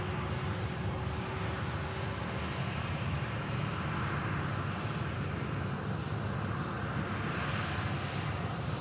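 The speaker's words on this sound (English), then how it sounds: "Got a TUI Dreamliner on the taxi out as well now, guys." Steady, broad engine roar of a TUI Boeing 787-8 Dreamliner taxiing on an airport apron, a constant rumbling drone at even loudness with no breaks.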